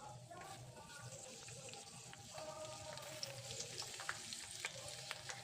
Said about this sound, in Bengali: প্রথমেই কড়াইতে একটুখানি সাদা তেল গরম করে তাতে দিয়ে দিতে হবে রসুন কুচিগুলো